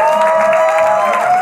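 A television studio audience applauds during an award ceremony on a comedy show, loud continuous clapping and crowd noise with a sustained musical tone running underneath.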